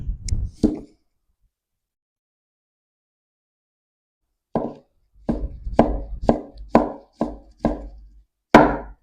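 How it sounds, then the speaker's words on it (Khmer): A knife chops peeled ginger into small pieces on a cutting board, a couple of quick knocks, a pause, then a run of about eight sharp, evenly spaced thuds close by. "ខ្ញុំធ្វើការហាន់ខ្ញីជាប្រទះ ស្ដើងបែបនេះ"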